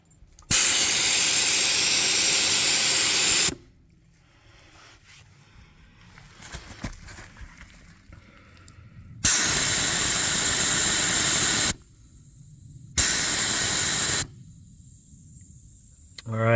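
Air hissing out of off-road tires through a Rhino Rapid Tire Deflator, loud sustained bursts of about three seconds and shorter ones, separated by quieter stretches with faint handling noises.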